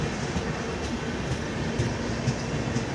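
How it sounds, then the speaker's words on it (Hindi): A train runs along a railway track laid on cement sleepers, producing a continuous rumbling roll with faint rhythmic clatter, fairly close and steady throughout. "और ये ट्रेन है।"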